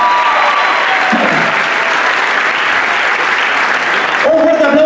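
A crowd claps for a dancer at a choreographic dance show, with steady, dense applause filling the room throughout. A few shouts and voices rise over it near the end.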